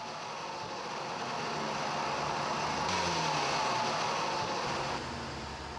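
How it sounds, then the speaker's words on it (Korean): The engine of a broken-down car puffing white smoke runs steadily at a repair shop, a continuous broadband rumbling hum with a slight swell midway and no voices. "흰 연기를 뿜으며 정비소를 찾은 한 대의 고장 차량."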